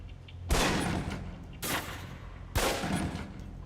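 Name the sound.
pistol shots at a target in video game Fallout New Vegas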